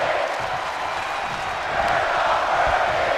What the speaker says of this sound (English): You hear the crowd saying it for me. We are not worthy.